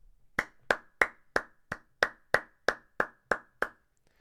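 A single person nearby claps ten times in a slow, evenly spaced rhythm, each crisp slap standing alone against near silence.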